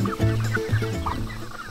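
Pastured chickens on a market garden cluck and murmur nearby in a continuous, busy chatter of short low calls.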